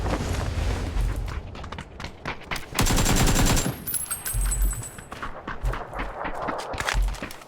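Gunfire in the battle royale game PUBG, dense bursts of rapid shots and a sharp heavy volley near the middle, mixed with footsteps and rumbling impacts, no speech.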